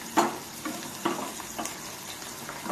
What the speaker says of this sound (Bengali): সেগুলো এই যে ফ্রাই করছি বেসন দিয়ে